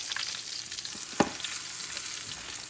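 A second batch of Southern fried chicken bubbles and hisses in hot oil, a soft, even crackle with one sharp tap midway, quiet and without speech.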